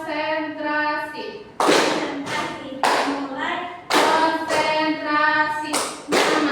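An Indonesian classroom claps in a rhythmic pattern during an accounting microteaching lesson: loud, crisp bursts of hand claps in a quick sequence, alternating with a person speaking in a sung or chanted voice.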